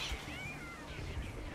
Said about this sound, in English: There's that cat meowing.